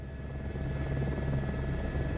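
Helicopter taxiing in Microsoft Flight Simulator, with a steady whining rotor and engine drone under a constant low hum, fairly quiet and unchanging throughout.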